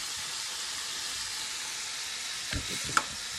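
Chicken browns in a hot pan with a steady broadband sizzle throughout, joined near the end by a couple of brief clanks from a utensil or pan being handled.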